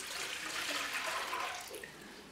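Water splashes and rushes steadily into a big bowl for a simple fish brine, a close continuous pour that tapers slightly toward the end, with no talk.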